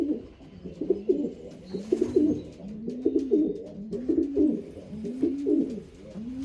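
A racing pigeon coos in a steady run of repeated low, throaty phrases, close and fairly loud, with no talking.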